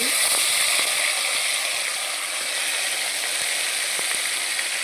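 Beetroot and brinjal pieces dropped into a hot pan of oil for vegetable khichdi, giving a loud, steady, close sizzle that fills the whole stretch without a break.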